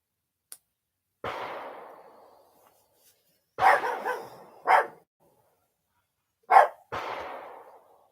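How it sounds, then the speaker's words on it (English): Neighbor's dogs next door barking in scattered bursts: a few drawn-out, fading barks and a quick double bark, moderately loud, with silent gaps between them. "I got the neighbor's dogs barking next door"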